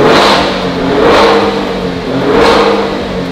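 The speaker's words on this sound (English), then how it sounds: "Let's listen to the stock exhaust first." A Maserati Grecale Trofeo's stock exhaust revs loudly up close in Corsa mode, rising and falling in three strong surges with a deep rumbling growl.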